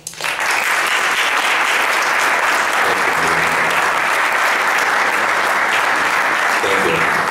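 A conference audience at PyCon 2013 breaks into a warm round of applause to welcome a speaker. The clapping starts abruptly and holds dense and loud throughout, with faint voices underneath.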